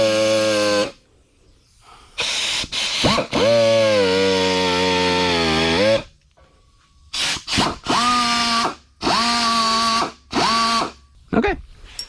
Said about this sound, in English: I've got this sander. I'm just gonna make sure all of this is smooth